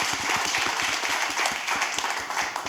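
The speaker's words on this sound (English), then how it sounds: "So let's clap for that." Audience applause from a seated crowd at a panel discussion in Nashville, dense steady clapping sustained throughout at moderate level with no talk over it.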